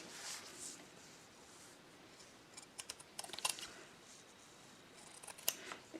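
Scissors trimming lace edges on a canvas bag, faint quiet snips in a small cluster midway and another near the end against a soft background.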